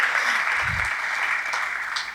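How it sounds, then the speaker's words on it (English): Applause rings out from a banquet audience at an annual CEO round table dinner. It is dense and steady for the whole short stretch, with a brief murmur of voices underneath. "So please could we give them another round of applause for being so thorough."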